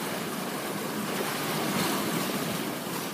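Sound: waves splashing over sailboat bow

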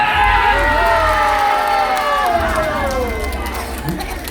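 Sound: festival crowd clapping and cheering

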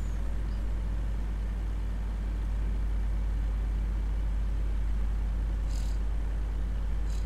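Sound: Peterbilt 379 day cab truck engine in video game Farming Simulator 19

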